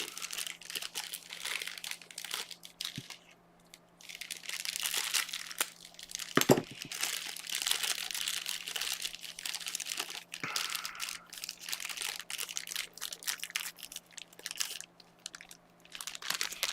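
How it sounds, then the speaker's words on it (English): A wrapped fruit chew candy is unwrapped with continuous crinkling and crackling plastic, then chewed, with a few sharp snaps close to the microphone. There is no speech. "I'm gonna have a fruit chew."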